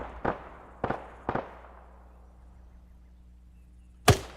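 Gunfire in a military shooter game set in Chernarus, three sharp echoing shots about half a second apart, then a pause and one more loud crack.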